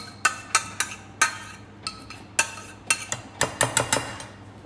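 A spoon scraping the last of a glossy pasta-bake sauce from a metal pan gives a quick, irregular run of sharp clinks and scrapes, close and clear with no talking.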